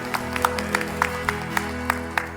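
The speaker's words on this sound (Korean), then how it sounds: "하나님께 감사의 박수를 올려드리겠습니다." A church congregation gives a short burst of applause, about eight distinct claps in a slow rhythm over a sustained musical background.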